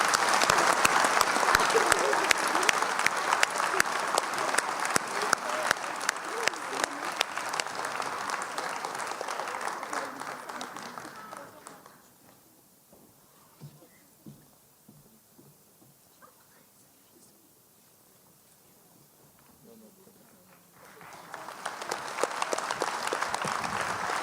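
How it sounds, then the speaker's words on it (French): A civic New Year's greetings audience in a town hall applauds Marie-Laure Arnaud with loud, sustained clapping that dies away to near silence with faint murmurs, then swells again into a fresh round of applause. "Je vous demande de l'applaudir."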